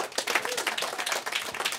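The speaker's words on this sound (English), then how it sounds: "You should applaud him for making a record." An audience claps for a musician's new album, a short run of fairly close, uneven clapping with individual hand claps audible in the mix.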